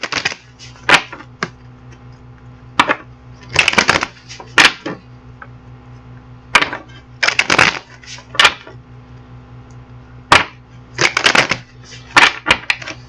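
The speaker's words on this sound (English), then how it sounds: "So I'm going to get the other deck, shuffle it up" Cards are shuffled in short bursts of crisp riffling and clacking, separated by brief pauses, close and fairly loud.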